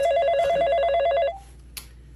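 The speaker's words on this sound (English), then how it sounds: "is nobody gonna pick up the phone?" A telephone bell rings in a fast trill for over a second, then breaks off, followed by a short click and quiet room tone.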